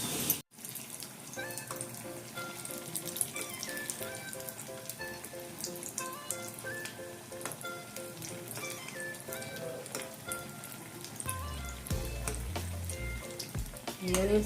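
Challa punugulu, batter fritters, frying in hot oil make a steady, close hiss and bubbling sizzle that runs almost the whole time, with a short break near the start and low thumps toward the end.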